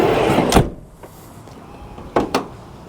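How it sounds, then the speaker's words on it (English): The soft-close rear door of a 1997 Toyota Hiace 4WD van swings shut with a soft thud, then a motor hums briefly before two quick latching clicks, close by and without talk. "Soft close on the door."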